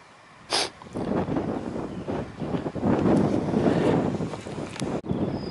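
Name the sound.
stiff breeze blowing on the coast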